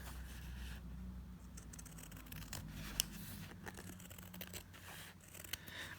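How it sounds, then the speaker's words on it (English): Scissors snip quietly around the border of a tissue paper embellishment for a junk journal, giving faint, sparse clicks over a soft hiss of room noise. "I would very carefully just cut around the outside border that was created"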